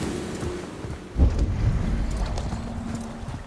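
Horse hooves clip-clop at a galloping pace while riding down a long slope in Assassin's Creed Valhalla, steady and mid-distance over wind and low ambient game music, with a heavier thud of hoofbeats after the first second.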